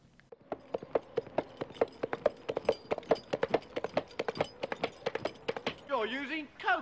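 Two empty coconut halves banged together imitate horse hooves in the style of Monty Python and the Holy Grail: a steady, close, hollow clip-clop rhythm that ends in a short tonal cry.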